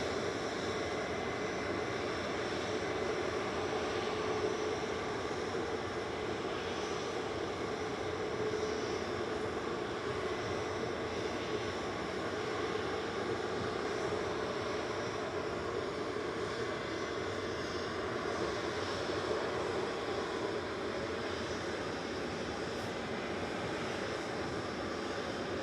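A steady, distant jet roar spreads across the airfield as an airliner sits lined up on the runway, a constant broad rumble holding even for the whole stretch with no voices.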